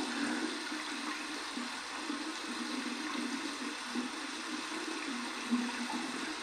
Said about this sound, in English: let's run this under some cold water